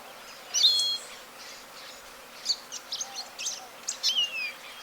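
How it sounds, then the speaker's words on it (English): Kingbird calls, Cassin's and western, from birds perched in guamúchil trees and on power lines: a sharp call near the start, then a run of short chattering notes toward the end, moderately close over a faint hiss of background. "Cassin's kingbirds and western kingbirds call periodically from perches in the Guamuchiles and on the power lines"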